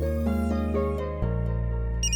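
A phone ringtone plays loudly and close in a steady, tonal musical pattern of repeated notes, with no voices over it.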